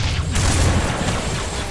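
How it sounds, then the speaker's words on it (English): Battle gunfire from Halo 3 rattles on continuously for a couple of seconds, a dense, loud wash of shots and booms with no voices over it. "You hear the sound of battle?"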